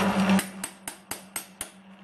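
A loose bolt on a spinning small metal lathe spindle is tapped to free a collet, five evenly spaced sharp metallic knocks following a brief grinding rattle, over a steady motor hum.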